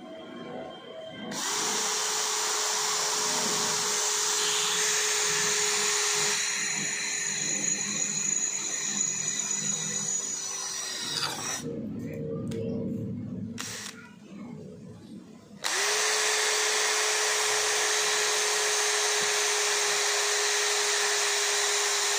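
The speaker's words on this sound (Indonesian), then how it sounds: "Berikutnya saya akan mengebor dengan besi ukuran 4 mili." A cordless impact drill with a 6 mm bit whines steadily at high speed, grinding into steel, pauses briefly, then starts up again with a loud continuous drone.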